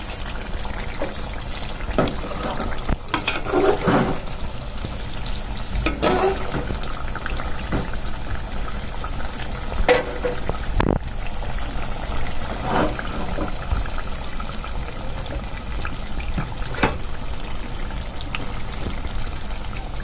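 Red chicken sautéing in a pot, cooked a long while because the pieces stay tough, gives a steady bubbling, sizzling simmer with a few sharp clinks and stirs, close and continuous, with no talking.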